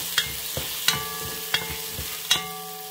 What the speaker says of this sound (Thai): ผัดพริกนะคะ ลูกควันนะคะ